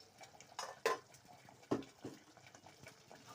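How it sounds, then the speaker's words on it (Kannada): Tomato chutney, made with a little water, salt, a pinch of chilli powder and garlic-ginger paste, is mixed in a pan, giving a few faint spoon clinks and scrapes against the metal in a quiet room. "ಸ್ವಲ್ಪ ನೀರನ್ನ ಸೇರಿಸ್ಕೊಂಡು ಈ ರೀತಿ ಮಿಕ್ಸ್ ಮಾಡ್ಕೊಂಬಿಡಿ"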